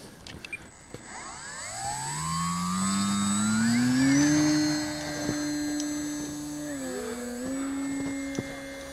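An E-flite Timber STOL RC airplane with flaps down takes off, its electric motor whining steadily and rising in pitch, then dipping and settling into a sustained buzz as it climbs away.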